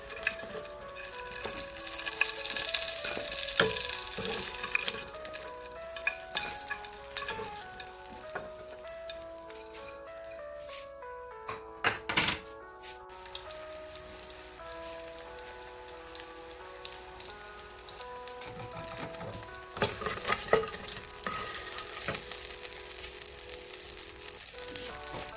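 Soya chunks deep-fry in hot oil with a continuous crackling sizzle, dotted with sharper pops and the occasional clink of a slotted spoon.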